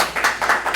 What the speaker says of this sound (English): you might not be clapping in a minute